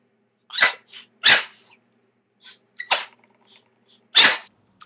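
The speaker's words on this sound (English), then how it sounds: "Ooh, gotta sneeze." A few loud, sharp sneezes close by, with short breathy sniffs and pauses between them.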